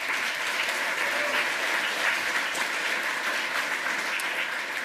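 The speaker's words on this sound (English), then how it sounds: "Give a huge round of applause for Mitch and Jimmy" Steady, dense applause from a large conference audience at a hacker congress lightning talk session, loud and continuous throughout with no break.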